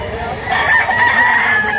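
Chickens and roosters at a busy chicken market in Lipa, a rooster crowing loudly and close among clucking fowl, with faint crowd noise behind.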